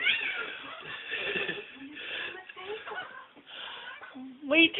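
A cat meows and yowls during a scuffle, several strained, wavering cries over a couple of seconds, with someone talking close by and a sharp louder yowl at the end.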